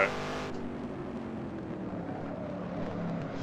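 A Shelby Cobra's engine in the Assetto Corsa racing game at Spa, a steady mid-pitched drone under light throttle, continuous and fairly loud with no talking.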